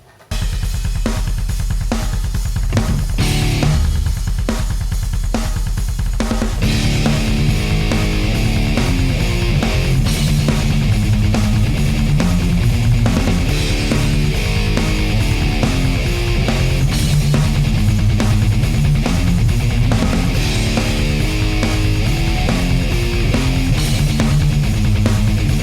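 Heavy distorted electric guitar plays a metal riff, loud and continuous, with dense palm-muted chugging and driving rhythmic figures throughout.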